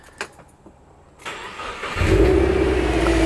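A modified Subaru WRX cranks and fires up after a short quiet stretch, then settles into a loud, steady rumble close by.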